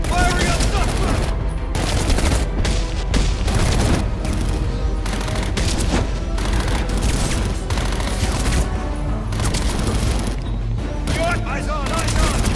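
Heavy automatic gunfire and booming blasts in Batman Arkham Origins pound on without a break, loud and dense, while police voices shout over the chaos.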